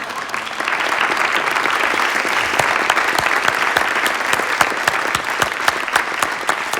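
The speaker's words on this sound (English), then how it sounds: "That's applause, ladies and gentlemen." Theatre audience bursts into applause after a revue sketch blackout, loud and close, swelling within the first second into thick sustained clapping with crisp individual hand claps standing out, holding strong to the end.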